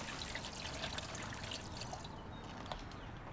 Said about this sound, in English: then get some boiling water and pour it over to steep